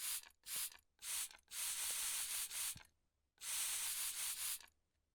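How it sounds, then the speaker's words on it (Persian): Window cleaner sprayed onto a car from a trigger bottle in a series of close, loud hissing bursts, several quick squirts followed by longer sprays and a final run of rapid pumps. "همه رو اسپری بزن آقا و تمام"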